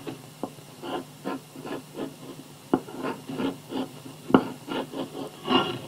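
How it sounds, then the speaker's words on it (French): Wooden clogs are scraped with a paroir blade in a run of short, rhythmic rasping strokes, close and moderately quiet, with a few sharper knocks. "Les sabots vont être terminés à l'aide du parloir maintenant."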